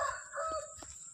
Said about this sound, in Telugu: కోళ్ళు చూసారా అరుస్తున్నాయి.